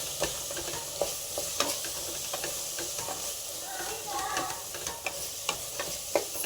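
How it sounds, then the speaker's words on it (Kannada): Masala for egg pulao frying in a pan with green chilli, a steady sizzle broken by sharp scrapes of a spoon stirring at irregular intervals, close and moderately loud with no talking. "ಇದನ್ನ ಇವಾಗ ಸ್ವಲ್ಪ ಫ್ರೈ ಮಾಡಿ ಸ್ವಲ್ಪ ಮಸಾಲೆ ವಾಸನೆ ಹೋಗುವವರೆಗೂ ಫ್ರೈ ಮಾಡಿ"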